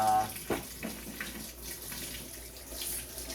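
Water runs from a kitchen tap as food is rinsed under it before cutting, a steady faint splashing stream with brief louder gushes and no talk.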